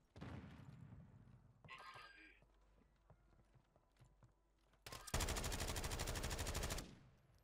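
Call of Duty Warzone gameplay with scattered sounds, then a loud burst of rapid automatic gunfire lasting about two seconds that stops sharply, with a voice speaking earlier.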